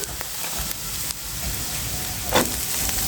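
Cabbage and onion sizzle steadily in a hot pan, a constant close crackling hiss with a few small pops and stirring sounds.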